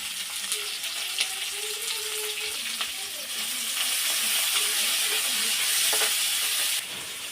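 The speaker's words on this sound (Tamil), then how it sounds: "நறுக்குனா வெங்காயம் அதோடு சேர்த்து வதக்கி விட்டுக்கலாம்" Steady sizzling of chopped onions frying in hot oil, with occasional stirring scrapes; no voices, a constant close crackle throughout.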